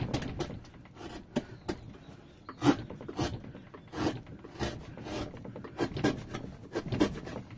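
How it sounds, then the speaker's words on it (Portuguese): Hand-carving a small mule figure from wood, a series of close, short scraping and rasping strokes in an uneven rhythm, fairly soft. "Eu não sou mula, estou entalhando uma mula só. Na madeira."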